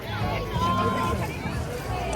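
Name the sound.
crowd hubbub at Chowrasta shopping area, Darjeeling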